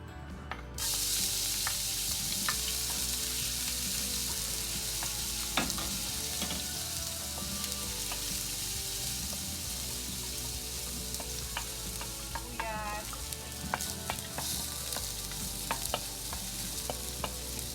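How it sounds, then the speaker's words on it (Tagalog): Garlic sautéing in a pan as the base for ginataang bagongon with squash and moringa, giving a steady, close sizzle with occasional sharp clicks from stirring, and no talking. "And gisa natin ang bawang."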